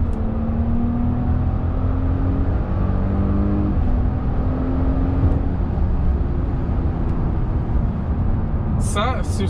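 A Porsche Cayenne engine pulls under acceleration from inside the cabin as the driver shifts with the paddles, giving a steady loud drone with rising and falling pitch as the gears change, under road noise, and a voice is heard at the very end.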